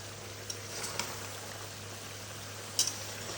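Lata shutki, dried fish cooked with taro stolons, fries in a pan with spices, a continuous close sizzle broken by a few sharp spoon scrapes and clicks as it is stirred.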